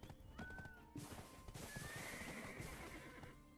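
In the online game Black Desert Online, a ridden horse lets out a clear whinny over steady clip-clopping hooves, fairly close and moderately loud.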